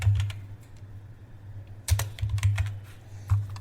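Quick typing on a computer keyboard, close and clear, a short flurry of clicks, then a pause before a denser run of keystrokes with a louder final tap.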